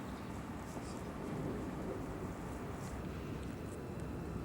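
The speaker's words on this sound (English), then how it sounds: "it's started to rain now" Steady rain falling outdoors at a lakeside carp fishing spot in mid-September, a continuous even hiss of moderate loudness with no talking.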